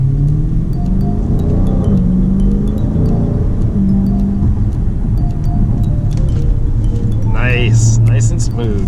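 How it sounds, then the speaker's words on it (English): A Dodge Challenger 392 starts and pulls away, its engine a steady, loud low rumble throughout with a rising rev sweep near the end. "go ahead and start the vehicle"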